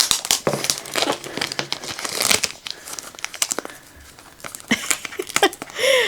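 Crinkling and rustling of plastic packaging on a diamond art advent calendar being cut open with scissors, sharp snips and tearing bursts, close up, irregular and busy, fading briefly midway before more crackles.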